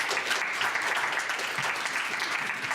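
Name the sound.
audience applause for a panel speaker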